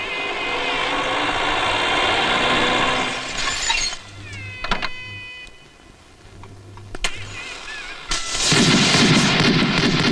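Gunshots fired as a welcoming salute for an arriving boss in a Malayalam comedy film, sharp loud cracks standing out over a busy noisy background, with a roaring burst of noise at the end.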